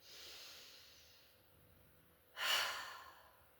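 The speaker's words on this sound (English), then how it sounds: "Take one more long steady breath here." A long, steady breath taken during a calm yoga relaxation, soft airy exhale fading at the start and then a louder, brief inhale or exhale near the end, close and alone.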